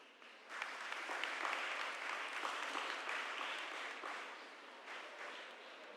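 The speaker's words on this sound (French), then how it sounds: "On les applaudit." A church congregation applauds school pupils at a Sunday Mass. The sustained clapping is fairly distant and soft, rising after a brief quiet start and continuing steadily to the end.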